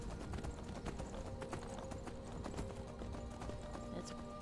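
Horse hooves clip-clopping in a steady, quick gallop while riding in the video game Skyrim, faint and even throughout with no talking.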